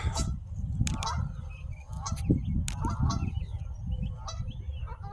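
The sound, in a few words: geese honking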